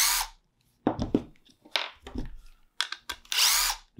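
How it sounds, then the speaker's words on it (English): A power drill backing out the screws on a holster, in short bursts of whirring spins separated by pauses, close and fairly loud, with light handling noise and no talking. "You just back out these two screws."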